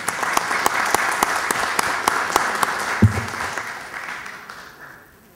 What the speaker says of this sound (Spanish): lo vamos a recibir con un aplauso por su cumpleaños